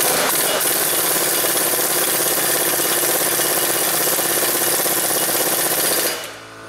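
A power tool runs a brake bolt down on a 2004 Pontiac with a loud, continuous, harsh buzzing whir close by, holding steady for about six seconds before cutting off abruptly.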